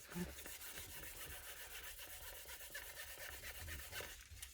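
Light hand sanding of wood with fine paper produces a faint, continuous scratchy rubbing of quick repeated strokes close by, with no talking.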